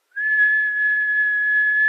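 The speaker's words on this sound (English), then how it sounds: "I'm going to whistle, because I can get like a pure tone when I whistle" A person whistles a single sustained pure tone, steady and fairly loud, close by and alone for nearly two seconds with no pitch change.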